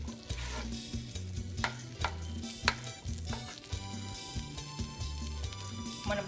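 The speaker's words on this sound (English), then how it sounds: "So I'm gonna melt my butter." Butter melting and sizzling in a pan for a Cambodian stir-fried crawfish dish, a steady close frying hiss with stirring and occasional scrapes, no talking.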